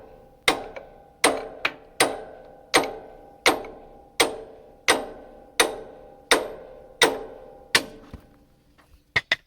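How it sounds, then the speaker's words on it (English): Eleven sharp metallic hammer blows on a hydraulic cylinder piston at an even, steady rhythm, each ringing briefly, followed by a few quicker lighter taps at the end. "Hammering."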